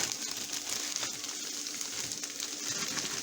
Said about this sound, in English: I got some previously chopped up ham that I'm going to sprinkle in here.